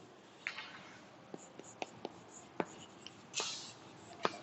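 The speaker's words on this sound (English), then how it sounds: "we'll write the definition also" Pen or pencil scratches and taps come in irregular short strokes as a definition is written by hand in a classroom lesson, faint and close with light page rustling.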